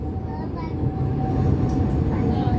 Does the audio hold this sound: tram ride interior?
yes